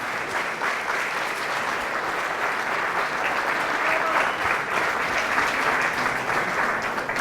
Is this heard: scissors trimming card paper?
no